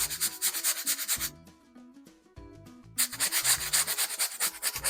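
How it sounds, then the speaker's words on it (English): A brush scrubs cerulean oil paint into a canvas for a summer sky, giving a steady, close rasping rub in repeated strokes, with a short quieter pause partway through. "And scrub it into that canvas."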